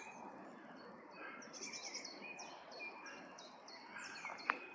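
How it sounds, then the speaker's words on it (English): Birds sing and chirp faintly in the distance, repeated short calls over a soft outdoor background hum. "I can hear the birds."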